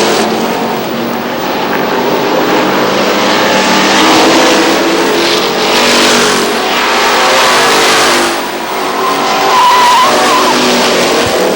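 Stock cars race at Lee Speedway in New Hampshire, engines roaring loudly and continuously in a dense pack with tires skidding and swelling passes, as a car slides onto the grass of the front straightaway.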